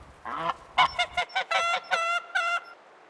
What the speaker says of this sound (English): The villagers let their geese roam free.